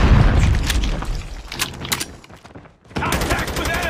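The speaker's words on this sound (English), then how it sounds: "Friendly predator missile inbound." A predator missile strike in Call of Duty Mobile booms amid dense rattling gunfire, loud and continuous, dropping briefly to near silence before another burst of shots resumes.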